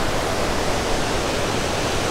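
A waterfall in Chiang Mai runs high at the end of the rainy season, its deep, fast current making a steady, loud, unbroken rush of white water with no other sounds.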